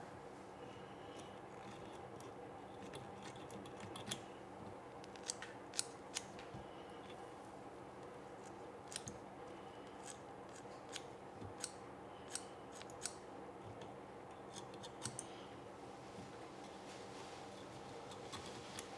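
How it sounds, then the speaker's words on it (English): Sharp scissors trim fibers on a fly-tying pattern, making small, crisp snips scattered irregularly over a quiet, steady room hiss, close and faint, with no talking. "I kind of keep one of these pairs really sharp to be able to just trim these fibers out of here"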